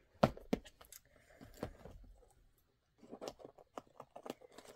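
Scissors cutting packaging: several sharp snips and crisp crinkling bursts, close and irregular, with a short quiet gap before more rustling cuts.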